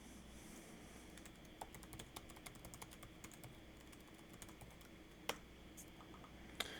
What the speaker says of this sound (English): And now I can type something.